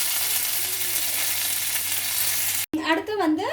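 Mustard seeds, pinched dried red chillies and curry leaves frying in hot oil for a sambar tempering, a steady loud sizzle that pauses briefly and then surges into a sharper, crackling spatter.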